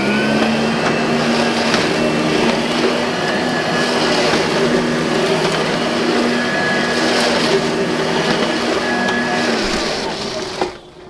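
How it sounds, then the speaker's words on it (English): A Simplicity Riccar R10 vacuum cleaner with its brush roller on runs over a hard floor, a loud steady motor whine and airflow roar that holds for about ten seconds before cutting off. "let's see if we can suck up the rest of that and see what happens"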